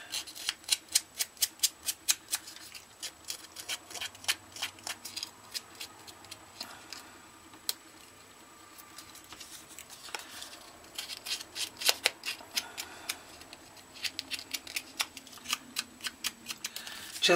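Quick snipping of scissors through paper, a rapid series of crisp clicks that pauses midway and then resumes, close to the microphone.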